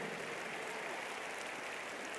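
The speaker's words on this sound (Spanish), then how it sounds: "Vamos a darle un aplauso a Dios por todos esos siervos" A church congregation applauds during a sermon, a dense, even wash of many hands clapping together, steady and moderately loud for a couple of seconds.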